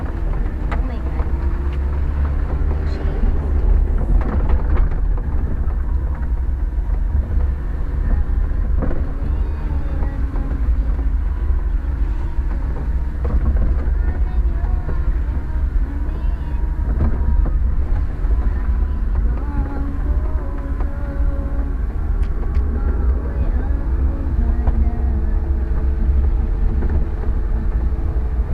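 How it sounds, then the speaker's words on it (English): A small 4x4 truck grinds over a steep, rough off-road dirt track, its engine a steady low rumble mixed with rattles, bumps and wind buffeting close to the microphone, with people talking over it throughout. "See the kind of punishment that our little truck is taking"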